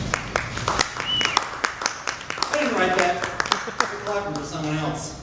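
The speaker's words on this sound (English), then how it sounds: "It's clapping for your voice, actually." At an open mic poetry night at Camp Bar, a small audience breaks into scattered, crisp hand claps after a reading, while people talk over and between the claps.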